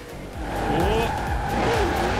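A Hot Wheels car drifts in Forza Horizon 4 with a loud engine roar and wavering tire squeals that rise and fall through the slide. The sound is continuous and close.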